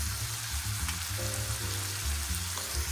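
Ground beef frying in a pan for stuffed bell peppers, a steady close sizzle and crackle with no talk over it, a low hum beneath it throughout.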